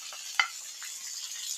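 Chopped tomatoes for tomato pickle hit a hot pan with a soft, faint sizzle and a single quick clink of a utensil, the frying hiss continuing quietly on its own.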